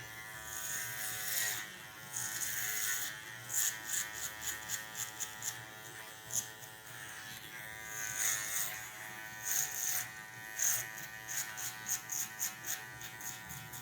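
Electric hair clippers buzz steadily close up while cutting a mid fade haircut, with the hum rising and falling in repeated short strokes as the blades pass through the hair.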